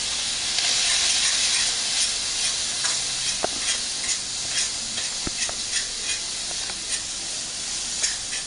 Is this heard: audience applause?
no